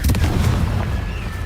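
The Confringo fire-blast spell from Hogwarts Legacy goes off as one deep, booming explosion with a rumbling tail that fills the short moment.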